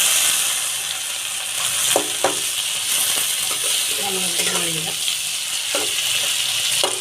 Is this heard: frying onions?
yes